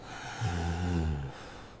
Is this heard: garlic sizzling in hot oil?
no